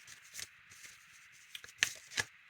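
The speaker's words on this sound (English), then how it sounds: "I'm just going to keep shuffling" A deck of tarot-style cards is shuffled by hand in a quiet room, soft riffling and flicking bursts coming in short irregular clusters, faint and close.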